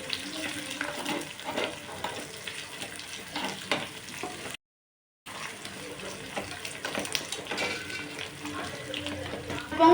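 Cashew nuts fry in a pan for thinai pongal, a steady soft sizzle with faint stirring scrapes, broken by a brief silent gap midway, then resuming.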